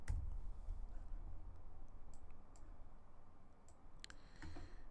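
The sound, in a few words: typing on a computer keyboard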